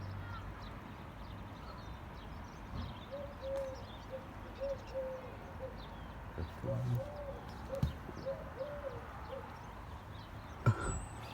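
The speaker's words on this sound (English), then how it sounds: "I heard some noises a few seconds ago from birds." Birds call outdoors, with faint, spaced cooing or chirping notes against a quiet background hiss; the calls are distant and soft.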